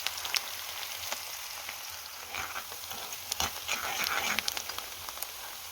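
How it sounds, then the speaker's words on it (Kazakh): Chopped onions fry in hot oil with a soft, steady sizzle, punctuated by light crackles and stirring clicks, fairly quiet and close. "Қызып тұрған майды қуырамыз."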